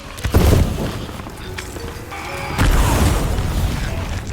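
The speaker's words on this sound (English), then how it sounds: "I sped up the explosion with the Chest of Rage" Gunpowder kegs explode in the pirate game Sea of Thieves, set off by the Chest of Rage: a loud boom opens, a dense rumbling roar rolls on, then a second heavy blast swells, all near and without talk.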